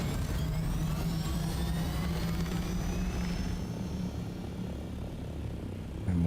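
A video game helicopter flies steadily with a constant low engine drone and rotor hum, loud and continuous throughout with no talking.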